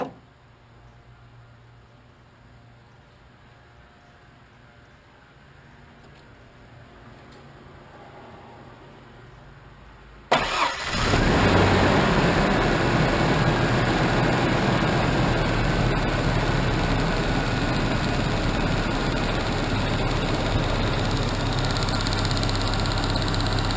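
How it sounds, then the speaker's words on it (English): A truck engine with a faulty ignition coil cranks and catches about halfway through after a long quiet stretch, then settles into a loud, steady, rough idle that runs to the end, with no talk. "So let me go ahead and start the truck back up"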